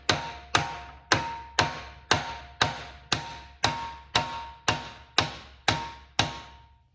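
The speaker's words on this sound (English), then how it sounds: "I'm gonna take a socket, 5/8 socket, put it on top, lightly hammer it down." Steady metallic hammer taps on a 5/8 socket driving a bearing onto a siren's chopper motor, about a dozen evenly spaced ringing strikes on metal, close and moderately loud, with no voices.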